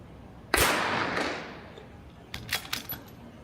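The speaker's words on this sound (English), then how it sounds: "And I'm shooting a CZ457 factory stock." A single sharp crack from a factory-stock CZ457 rimfire rifle firing TAC 22 ammunition, with a decaying tail, then a few light metallic clinks.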